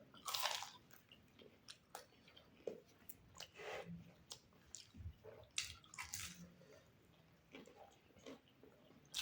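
Someone eating samosas (singhara) at speed during a timed samosa-eating challenge, with close, repeated crunchy bites and wet chewing in an irregular rhythm, fairly quiet and with no talk.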